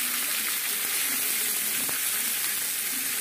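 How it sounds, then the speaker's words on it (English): Liver fries in a pan with a steady, bright, hissing sizzle, close and continuous, with a faint clink of a utensil midway and no talking. "Just cooking this liver"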